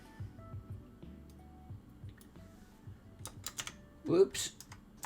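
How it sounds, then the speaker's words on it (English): Rapid, uneven clatter of fingers on a computer keyboard during map drawing, a run of quick key taps followed by a louder burst of clicks near the end. "Typing like a spasmo."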